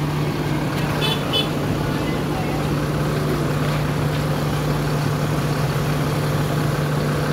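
An ALS intercity bus engine idles steadily with a constant low hum at a bus terminal in Palembang, with brief faint horn toots early on over continuous traffic background.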